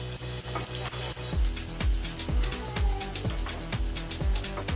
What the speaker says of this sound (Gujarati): હવે આપણે લસણને ધીમા તાપે બ્રાઉન થવા દેવાની છે।